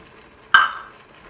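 Dry brown lentils stirred into a soup pot, one quick scraping swish that fades within half a second, with no other sound around it.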